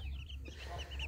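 Hens clucking softly while rolling in dirt during a dust bath, with several short, high clucks in a steady murmur, close by and fairly quiet.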